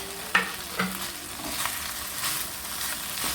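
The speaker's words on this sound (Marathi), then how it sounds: "चोय हांव आतां सॉसेजीस घाता आनी आतां फ्राय कोता बरें दवरता हांव" Goan chorizo sausages frying in a pan, a soft steady sizzle with a few clinks and scrapes of a utensil early on, heard close and alone.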